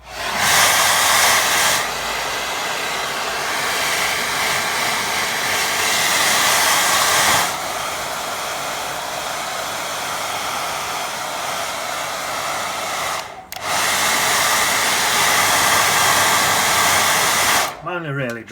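A hair dryer blows over a watercolour painting of a waterfall and lake, a loud, steady whooshing roar close by that shifts in pitch a few times and stops briefly before starting again, then cuts off at the end.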